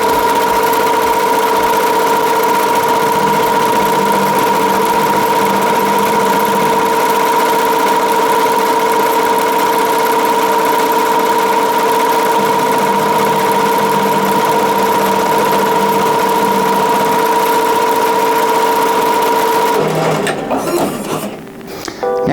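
A machine embroidery unit stitches a triple-stitch cut line for a free-standing lace gift tag ornament, a loud steady whirring hum with a rapid mechanical chatter that runs for about twenty seconds and then stops abruptly.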